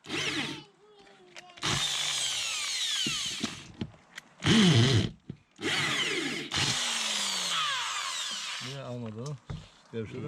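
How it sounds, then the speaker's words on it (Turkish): A power drill boring holes into the upper kitchen cabinet of a high-roof Transporter campervan conversion, several loud whirring bursts of a few seconds each separated by pauses, with people talking in between. "Öbürlerine deliyorum aynı şekilde."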